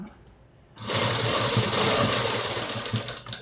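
A sewing machine stitching a cotton dress starts up after a quiet moment and runs steadily with a close, loud mechanical whirr and rapid needle chatter.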